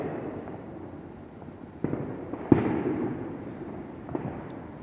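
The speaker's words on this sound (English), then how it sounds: "It's like every neighbor is setting them off, except for me." Neighborhood fireworks going off on the Fourth of July in New Hampshire, a few distant muffled pops and booms over a low outdoor rumble, with one sharper bang midway.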